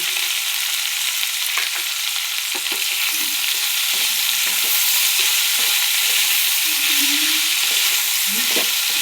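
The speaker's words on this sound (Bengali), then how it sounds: "হলুদ লবণ দিয়ে ভালো করে নাড়াচাড়া করে গ্যাসকে মিডিয়াম ফ্লেমে রেখে ঢাকা দিয়ে দেবো।" Frying food being stirred in a pan on a gas stove after turmeric and salt are added, with a steady close sizzle and scattered scraping and clinking of the spatula throughout, no voices.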